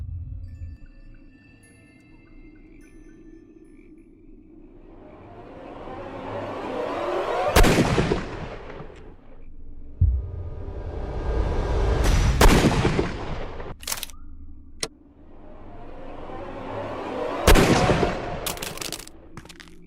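Several sharp gunshots ring out in a Sherlock Holmes: Crimes and Punishments game scene, spaced a few seconds apart, each a loud crack with a booming tail over low rumbling ambience; no talking.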